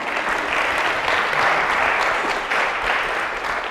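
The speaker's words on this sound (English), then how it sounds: "can we clap it up for Allie's parents?" An audience at a university lecture hall claps loudly and continuously for a guest's parents, a dense, even wash of applause with no talking over it.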